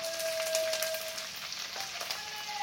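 Garlic, ginger and curry leaves frying in a pan make a soft, even sizzle with faint crackles throughout, heard close and alone.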